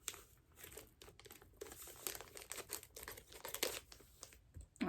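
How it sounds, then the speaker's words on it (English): Gift paper crinkles and tears in irregular bursts as a book is unwrapped, close and fairly quiet, with scissors snipping and rustling throughout and no one speaking. "I don't know how to unwrap it gracefully, so scissors."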